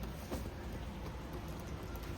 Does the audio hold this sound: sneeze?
no